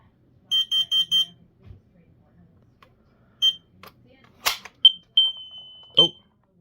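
A household smoke alarm under a button test gives four quick, shrill beeps in a row, then after a pause single beeps and one longer tone mixed with clicks and handling knocks.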